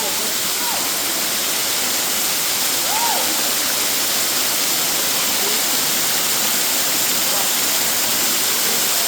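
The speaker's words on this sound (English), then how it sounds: "A line of people just to get near the waterfall." A waterfall in Bali pours down in a steady, broad roar that fills the whole stretch, loud and close throughout.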